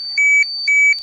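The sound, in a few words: radiation detector beeping from gamma rays at Chernobyl Ferris wheel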